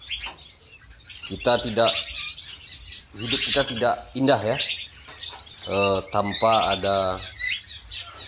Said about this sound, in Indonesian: burung-burung yang selalu berkicau di pagi hari